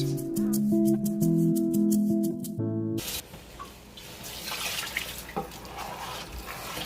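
Water is poured into a pot of village-style Ghana jollof rice, a gentle splashing stream that starts after a few seconds of musical tones and runs on softly to the end.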